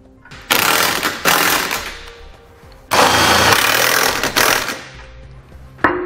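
Power ratchet or impact-style tool driving factory hardware into a bumper beam on a 2014 BMW 3 Series, heard as two loud, sustained bursts of rattling mechanical whirring with a brief final blip, no talking.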